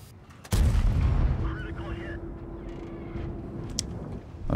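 A single heavy cannon shot from the Standard B tank in a video game, a sudden loud boom followed by a rumbling decay, with a voice talking faintly in the background.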